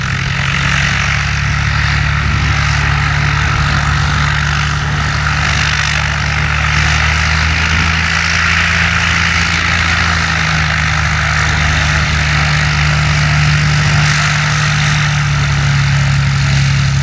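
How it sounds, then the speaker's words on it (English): A 1957 Cessna 172 propeller plane runs its engine nearby, a loud, constant droning roar with a low throbbing hum and a broad propeller wash that holds steady throughout, with no voices. "1957 Cessna 172. You don't see many of those around, I gotta say."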